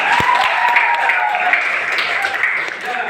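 An audience claps in a classroom, a steady wash of applause lasting a few seconds with a voice briefly audible over it.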